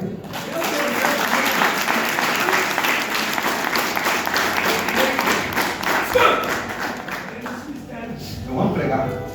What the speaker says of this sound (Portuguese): Aplaude aí.